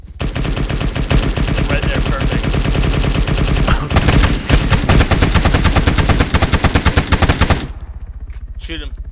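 Sustained rapid automatic gunfire in a video game aimed at a helicopter as it comes in to land, loud dense bursts for several seconds before cutting off, with a player's voice talking briefly over it.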